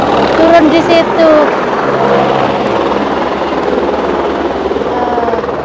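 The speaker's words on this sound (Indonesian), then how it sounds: "Ada helikopter turun di situ." A helicopter is heard nearby in a Swiss mountain valley near Kandersteg, its rotor and engine a loud continuous drone, with people talking over it throughout.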